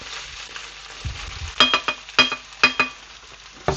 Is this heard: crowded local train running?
no